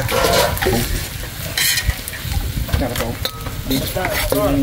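Garlic and onion fry in a pan, a steady loud sizzle with stirring scrapes throughout, and a voice speaks faintly underneath.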